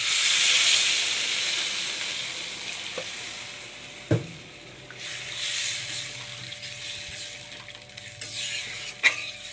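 Water poured into a hot pan of sauce hisses and steams steadily, with a few sharp clinks of a utensil against the pan; the sizzle fades gradually and no one speaks.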